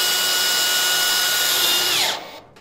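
A power drill drives a self-tapping screw through a triangular ceiling joist into a bathroom heater unit, whining steadily and loudly for about two seconds before winding down and stopping.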